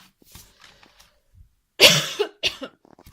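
A person with allergies and a scratchy throat coughs sharply a few times, nearby and indoors. Softer throat-clearing sounds follow, with quiet moments before and between.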